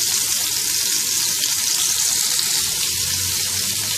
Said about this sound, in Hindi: और इसमें ये कबाब डाल के फ्राई करेंगे